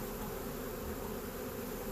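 Steady, dense buzzing from a swarm of honeybees gathered on and around a wooden hive box, constant and close with no talk.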